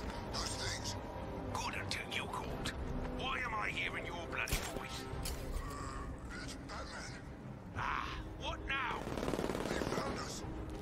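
Video game gunfire with bursts of machine-gun and single shots, heard somewhat distant under a continuous game soundscape, with voices talking over it throughout.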